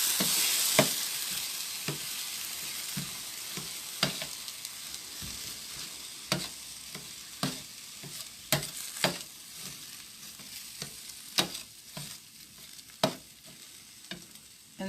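About two cups of butternut squash being stirred into onions in a pan for queso dip, with a soft sizzle under repeated scraping knocks of a utensil against the pan at an uneven rhythm.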